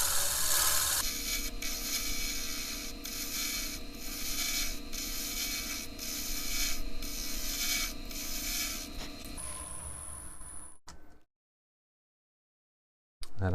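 A sharp chisel cuts sycamore wood spinning on a lathe, giving a steady, close rasping hum with faint periodic scrapes for about nine seconds before it stops, followed by near silence.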